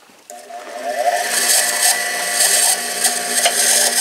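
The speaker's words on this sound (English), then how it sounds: "go ahead and put it on the grinder just to smooth it out" A grinder smooths down a weld on a handmade tomahawk, giving a close, harsh, continuous whine with scraping bursts as the disc bites the steel; no talking.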